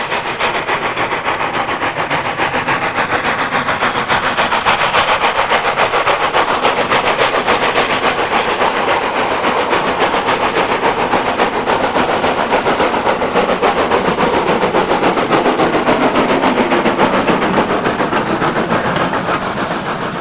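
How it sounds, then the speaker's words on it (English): Lambton Tank steam locomotive number 29 working hard in the Esk Valley in October 2002, its rapid, loud exhaust beats pounding in an unbroken roar with hissing steam. "Lambton Tank, number 29 in the Esk Valley in October 2002, putting out more stuff than its size suggests is possible."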